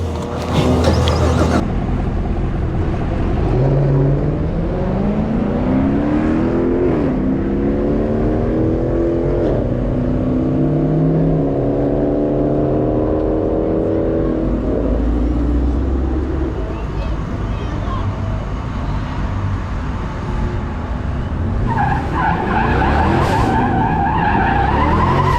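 Two Chevrolet Camaros on drag radials race side by side, engines roaring loud and steady as revs climb through rising gear pulls, with tire noise and a brief burst at the start, all sustained over about twenty-five seconds.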